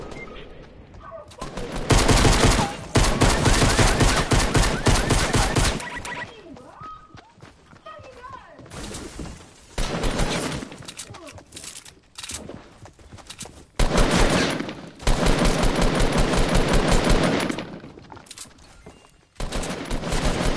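Repeated bursts of automatic gunfire in a Fortnite battle royale match, loud and close, arriving in long dense volleys with brief pauses between them, while players talk over the shooting.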